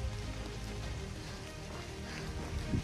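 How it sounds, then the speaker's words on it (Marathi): Rain falls steadily during a mountain trek in Maharashtra's AMK range, a dense, even patter on surfaces that continues without pause, fairly soft and close, with no one talking. "पाऊस एवढा चालू झाला बघा"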